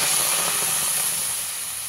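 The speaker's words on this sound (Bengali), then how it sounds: "এবারে জল দিয়ে দেব পরিমাণ মতো" Water poured into a wok holding papaya and potatoes, a steady broadband rushing hiss that holds loud and even for two seconds, easing slightly toward the end, with no talking.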